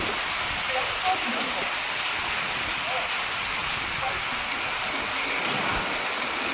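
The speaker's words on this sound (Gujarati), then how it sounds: "જબરજસ્ત પવન સાથે વરસાદ છે અહીંયા" Heavy rain driven by strong wind hisses down amid a broad rushing of wind at night, a constant wash of noise with no voices.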